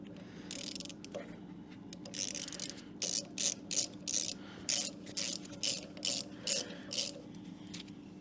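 A ratchet turns a tap through a 3/8 socket adapter while fixing leaks on a 1996 F150 engine, giving a steady run of quick mechanical clicks in rhythmic bursts, close and fairly loud.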